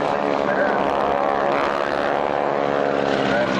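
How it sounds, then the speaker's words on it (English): A formation of propeller wingwalking display aircraft passes low from right to left, a loud, continuous droning engine roar with a throbbing propeller buzz that stays heavy throughout. "now the aircraft are grouped up and coming in from right to left"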